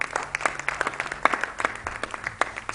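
A church congregation claps and applauds, a steady burst of close, scattered handclaps filling the room for a few seconds, with a faint murmur of voices underneath.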